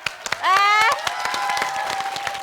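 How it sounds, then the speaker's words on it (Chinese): A studio audience at a music comedy show gives scattered, brief applause, with separate claps heard close by beneath a sustained voice or tone. "掌声欢迎依晨"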